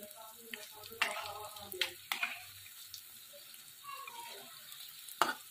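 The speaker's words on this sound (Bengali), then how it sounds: "দেখুন আমার এই একদিকটা ভাজা হয়ে গেছে, আমি এইভাবে উল্টে দিলাম" Mustard-flower fritters sizzle softly in a pan as they are flipped, with several distinct utensil clacks and scrapes rising over the frying hiss and faint tonal sounds in the background.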